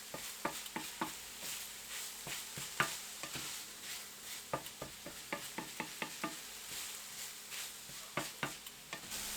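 A pot of seasoned filling for Vietnamese pyramid rice cakes being stirred with ground black pepper, steady utensil scrapes and clacks against the pot repeating in an uneven rhythm over a soft sizzling background, close up with no talking.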